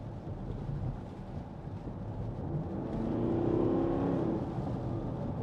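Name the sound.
2014 Porsche Cayenne S diesel accelerating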